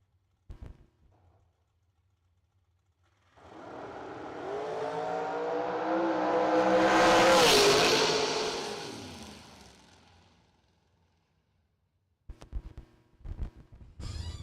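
A drag race car, a Mullis chassis, launches and accelerates down the strip, its engine roaring up to a loud peak around the middle, then fading as it runs away, with brief crowd or track noises afterward.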